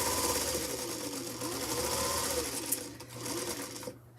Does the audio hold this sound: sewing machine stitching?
yes